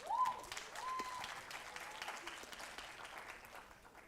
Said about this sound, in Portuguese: Uma salva de palmas para Radassa.